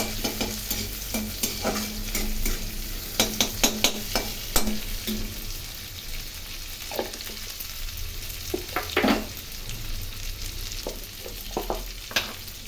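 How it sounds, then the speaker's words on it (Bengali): Shredded cabbage with onion and chili fries in a pan under a low steady sizzle, punctuated by repeated scraping clinks of a spatula stirring, irregular and close, with no talking. "ভালো করে এগুলো ভেজে নেব"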